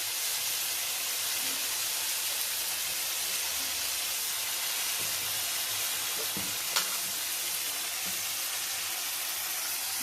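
Spice paste and water cooking in a pan for a Bengali potato curry, a steady loud sizzle and bubbling hiss running throughout, with a few faint clinks of utensils.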